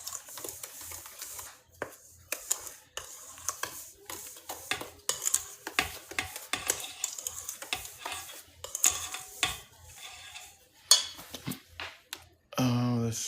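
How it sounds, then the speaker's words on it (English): A spoon stirs coconut pecan frosting for German chocolate cake in a bowl, giving intermittent scraping and clinking strokes at a moderate, uneven pace, with a louder rumble starting just before the end. "you're gonna take all of this and stir it up"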